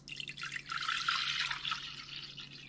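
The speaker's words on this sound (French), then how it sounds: "Je viens y incorporer mon litre complet de lait." A liter of milk pours into a saucepan in a short, gurgling liquid stream, fairly quiet and close, with a faint low hum underneath and no talking.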